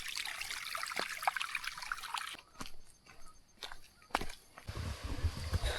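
A small mountain stream near Hawagala, Sri Lanka, trickles and babbles quietly nearby, with soft irregular splashes and a few faint knocks or footsteps over the steady flow.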